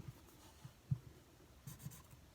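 Sharpie marker tip scratching and tapping on fabric while marking it, a few soft, close strokes spaced irregularly over a quiet room background.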